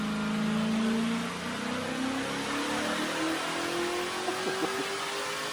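Ford Performance RTR drift car in a racing video game, its roughly 900-horsepower naturally aspirated engine with nitrous revving toward 9,000 RPM, a steady loud high-pitched engine note rising gradually in pitch, with no talking.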